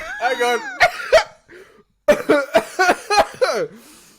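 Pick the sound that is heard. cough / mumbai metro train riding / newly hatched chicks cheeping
cough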